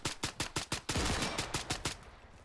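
In Arma 3 with the RHS mod, an M3A1 SD suppressed .45 ACP submachine gun fires a rapid string of sharp reports, first in spaced shots and then a dense burst, loud and close with no voices.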